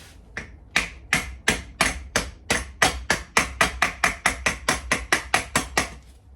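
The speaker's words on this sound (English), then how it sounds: "We'll get a little nylon mallet. We'll just tap this in." A small nylon mallet taps an axle part into place during a rebuild of a Mk2 Escort RS2000 rear axle: a rapid, even series of about twenty sharp, close knocks in an otherwise quiet workshop.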